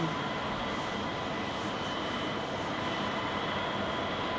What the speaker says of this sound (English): yeah, there's our ATI arriving from Cincinnati.